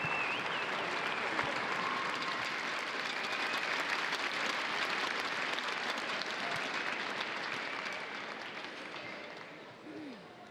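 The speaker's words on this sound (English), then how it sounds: "Please show your appreciation for Niclas and Sara" Sustained applause from the crowd at the Scottish Open Grand Prix 2014 mixed doubles badminton final, a dense, steady clapping that holds throughout and fades slightly toward the end.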